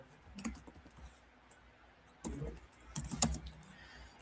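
Keys on a computer keyboard are tapped in short, sparse clusters of quiet clicks, with a few faint isolated presses between them.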